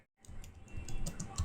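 Typing on a computer keyboard, quiet close clicking keystrokes in an uneven rhythm after a brief silent moment, with no speech.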